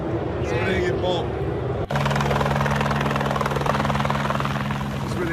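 A scenic flight helicopter coming in to land at Bathurst, its steady loud rotor thrum and engine whine close and continuous, with a voice heard briefly at the start before the noise takes over.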